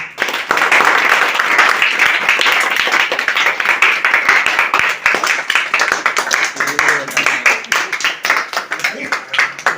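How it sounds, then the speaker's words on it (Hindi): Clapping from a gathered audience at a homecoming event, many hands beating in a dense, loud patter that continues throughout, with some talk rising toward the end. "इसी बात पे सब लोग अपना ताली बजाएंगे।"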